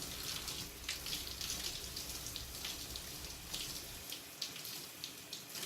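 Steady hiss of running water from a tap rinsing a Creme of Nature hair masque out of curled hair, with splashing droplets throughout and no talking.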